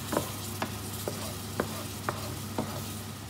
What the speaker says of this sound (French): Je remue tout ça